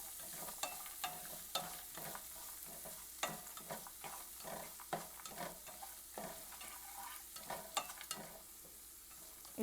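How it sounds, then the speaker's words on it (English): Chopped onion caramelizing in a pan, a soft steady sizzle under repeated light scraping stirs, close but quiet. "caramelizing the onion now"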